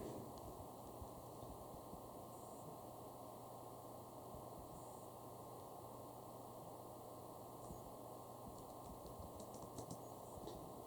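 Keys tapped steadily on a computer keyboard as a password goes in, a soft continuous clatter close by under a constant hiss of background noise, with no voices.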